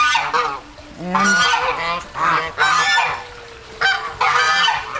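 Geese honk loudly and repeatedly in bursts, several birds calling close by, with a brief spoken word at the start.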